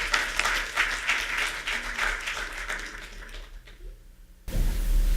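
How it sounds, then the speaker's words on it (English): Dense audience applause at a year-end celebration, a steady wash of clapping that fades toward the end before a sudden burst of louder room noise. "let's give everyone one last round of applause"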